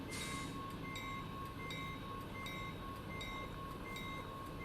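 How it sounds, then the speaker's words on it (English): Video-game train in American Truck Simulator passing through Wyoming, a low, quiet rolling drone marked by evenly spaced clacks of the wheels over rail joints, continuing steadily with no one speaking. "Oh yeah, another train."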